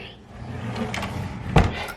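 A bathroom drawer opened or closed: a short wooden sliding rumble ending in a sharp knock, with a voice faintly nearby.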